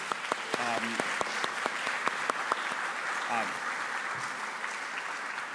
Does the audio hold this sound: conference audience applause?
yes